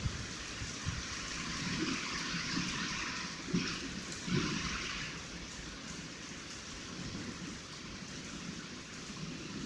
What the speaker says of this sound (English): rain's coming down faster